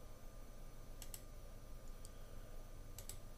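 Computer keyboard typing while renaming a file in PowerDirector, a few faint sharp clicks in two quick bursts over a steady low background hum, no talking.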